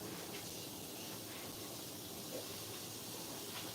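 A handheld water sprayer soaks hair during a wash, giving a steady, even hiss that runs unbroken the whole time, with no talking.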